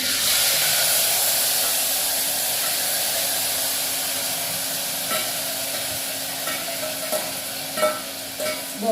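Mustard seeds, cumin and asafoetida tempered in hot oil for a potato curry give a steady, close sizzle that slowly eases, with a few light clinks of a utensil toward the end.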